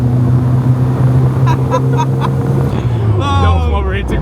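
A mini shorty with a fabricated exhaust runs flat out in third gear, its loud, steady engine drone rising and then dropping in pitch, with voices talking over it toward the end.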